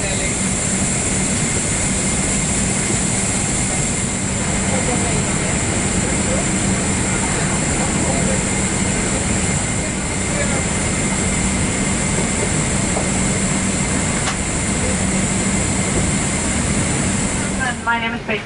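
Inside the business-class cabin of a KLM airliner flying from Jakarta to Kuala Lumpur, the engines give a loud, steady broadband roar as the plane accelerates down the runway for takeoff, holding constant nearly throughout.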